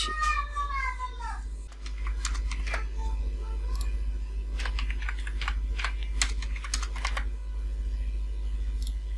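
Someone types a password on a computer keyboard, quick irregular clicks in bursts close by, with a cat meowing briefly at the start over a low background hum.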